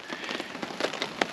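Rain patters on wet bush during a sika deer hunt in the Kaimanawa ranges, a soft close hiss with scattered sharper drops standing out near the end.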